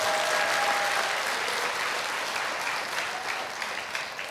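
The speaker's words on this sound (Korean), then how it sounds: "동의하시면 박수라도 좀 쳐주시든지." Lecture-hall audience applauding a guest professor's talk, a dense steady wash of many hands clapping at once that starts loud and fades slightly toward the end, with no voices over it.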